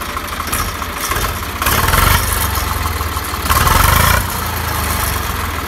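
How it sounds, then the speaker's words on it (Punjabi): A 1994 Swaraj 735 FE tractor with its original, unmodified engine idles with a steady throbbing chug, rising twice into brief louder revs before settling back, close and without talk. "ਇਹ ਹੈਗਾ 94 ਮਾਡਲ ਆਪਣਾ ਇਹਦਾ ਟਰੈਕਟਰ ਆ ਅਤੇ ਇਹਦੀ ਓਰੀਜਨਲ ਆਵਾਜ਼ ਹੀ ਸੁਣਾਉਂਦੇ"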